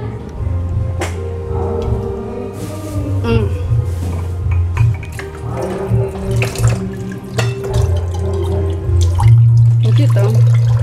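Water runs from a kitchen tap into a sink, a steady splashing stream with tonal bursts and clatter of dishes, a voice speaking briefly over it in a home.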